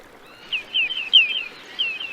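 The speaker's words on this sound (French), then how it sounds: "C'est le cri d'un petit gravelot." Little plover calling on a coastal shore, a series of short, thin, high-pitched piping notes delivered in quick irregular bursts, fairly clear against a quiet background.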